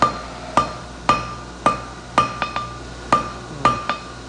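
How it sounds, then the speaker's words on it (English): A hand hammer forges hot non-ferrous metal on an anvil: about ten sharp, ringing blows, mostly spaced evenly with a quick double strike midway, each leaving a bright metallic ring that decays quickly. "Still feeling a little stiff under the hammer."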